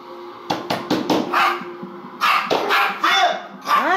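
Several dogs barking outdoors in a quick cluster of sharp barks near the start, then more scattered barks and yips, fairly close and loud, with no talk over them.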